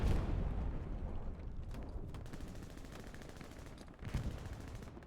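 Video game gunfire on the Carentan map during a competitive match rattles at a moderate distance in continuous bursts, swelling again with a louder volley near the end, with no talking.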